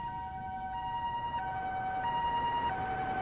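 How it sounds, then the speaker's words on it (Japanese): A two-tone ambulance siren alternating between high and low pitches at a steady, moderate distance, with faint road rumble underneath, as the ambulance approaches. "救急車だ。 今日は騒がしいな。"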